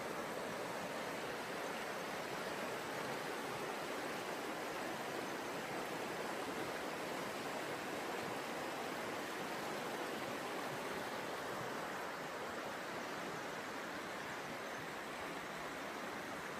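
The North Fork of the Clearwater River in north central Idaho, lined with old-growth cedars, rushing as a steady, dense broadband roar that stays unchanged throughout.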